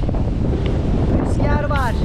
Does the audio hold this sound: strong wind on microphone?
yes